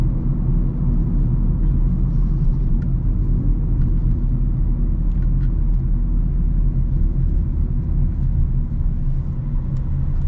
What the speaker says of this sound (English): That seems like that's the noisiest part of this, is the road noise.